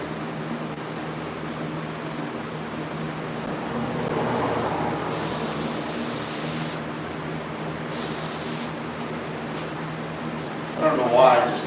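A spray gun lays a light spot primer coat onto a vehicle body, a steady hiss of atomized spray running in bursts over a constant fan hum in the shop.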